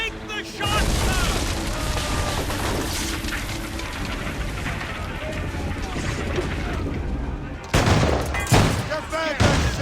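Dense gunfire and booming blasts from a movie-style ambush, a sustained roar of shots throughout with heavier bursts near the end, while voices shout over the fighting.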